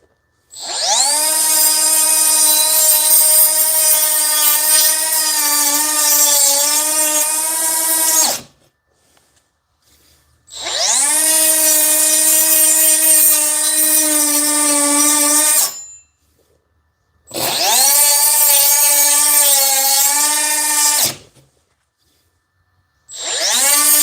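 A cordless cut-off tool, either a Dewalt 20V DCS438 or a Milwaukee M12 2522, cutting in a garage: three loud, sustained high-pitched whining runs separated by short silences, each spinning up and winding down.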